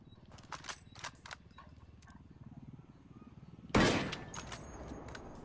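M40A5 sniper rifle in Ghost Recon Wildlands, a single loud crack near the end followed by a decaying echo, preceded by quieter clicks and low ambient rumble.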